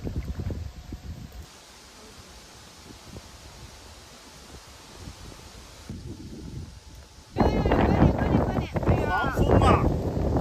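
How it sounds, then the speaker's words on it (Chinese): A strong gale in the open countryside near the border at Wenquan County, Xinjiang, buffets the microphone in rumbling gusts that surge much louder toward the end, with people talking and shouting over it. "狂风啊！"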